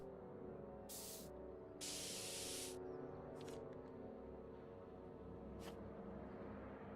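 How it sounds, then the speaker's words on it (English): A spray paint can hissing in the adventure game Back to the Future: The Game, with several sharp bursts of spray, one longer sustained blast among shorter puffs, over a low steady background hum. "Spray can. And spray that."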